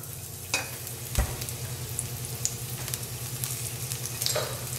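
Onions frying in extra virgin olive oil over medium-high heat, a steady close sizzle with a low pulsing hum from the stove underneath and a few sharp clinks and stirring knocks, no talk.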